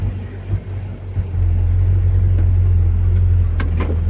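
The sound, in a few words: car engine running after exhaust leak repair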